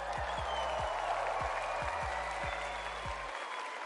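A crowd at a Fortnite FNCS event applauds and cheers in a dense, continuous roar, with pulsing low beats from arena music underneath.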